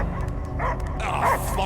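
A dog in the video game Guardians of the Galaxy gives a few short yipping barks and whimpers, close and fairly loud, mixed with other game sounds and possible voices.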